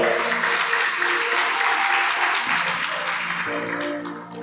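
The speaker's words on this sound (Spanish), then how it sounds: "Dele fuerte aplauso al Señor." A church congregation claps loudly in praise during a worship service, a dense steady applause with some sustained tones underneath, tapering slightly at the end.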